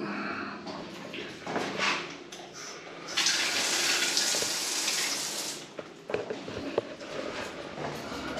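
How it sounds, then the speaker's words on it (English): Shower water runs in a campground restroom's accessible shower stall, a steady hissing spray that swells louder midway, with low pressure and a few faint knocks and clatters around it. "You got some water pressure, not a whole lot."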